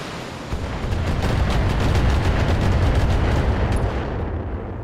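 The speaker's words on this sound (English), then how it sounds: "Okay, I think that's an LRM turret" An LRM turret fires in the BattleTech video game, producing a loud, continuous rumbling barrage of blasts that holds steady for several seconds before easing slightly.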